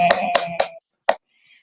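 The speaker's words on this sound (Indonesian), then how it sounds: "Tepuk tangan buat Gonzales" Classroom students clap in a small burst: three quick, sharp claps, then a single clap after a short pause, with quiet afterward.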